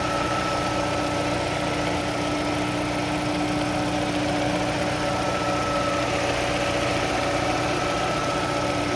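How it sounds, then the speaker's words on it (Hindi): A used second-hand car engine idles steadily at close range, a constant even hum with a faint tonal whine and no other sounds. "इंजन का साउंड आप लोग चेक कर लें"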